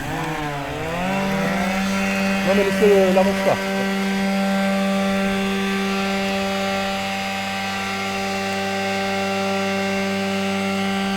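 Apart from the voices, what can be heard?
Lymow One Plus robot lawn mower running at maximum turbo speed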